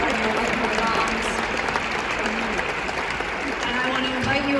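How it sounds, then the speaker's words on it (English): Sustained applause from an audience honoring working mothers at an award ceremony, a dense steady wash of clapping filling the whole stretch at a consistent level. "please give another warm round of applause for them"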